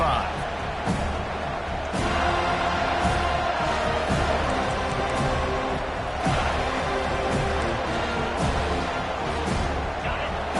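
A football stadium crowd roars and cheers in a dense, steady wall of noise that swells slightly at times, with a commentator's voice talking over it throughout.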